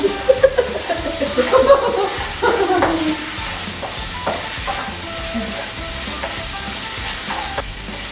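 Cooked rice being stirred through seasoning in a frying pan, with a scraping, sizzling texture and spoon clatters that are busy early and ease into a steadier low sizzle, while a few quiet voices and a short laugh sound in the background.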